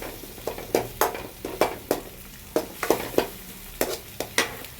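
Egg being fried and stirred in a pan for idli egg fry, with repeated scraping strokes of a spatula against the pan in an uneven rhythm over a soft sizzle, close and clear.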